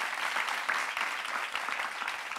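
A studio audience applauds to welcome a guest on a French-language talk show, a steady broad wash of clapping at moderate level that continues evenly throughout without any speech.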